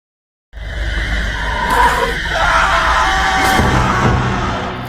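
A man screams loudly and continuously for several seconds after a brief silence, raw and strained, with clattering noise underneath.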